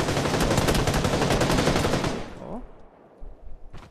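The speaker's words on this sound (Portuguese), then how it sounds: "Me atirou não sei de onde, cara." Rapid automatic gunfire from a video game rattles loudly and continuously for about two seconds, then cuts off, followed by quieter scattered game sounds.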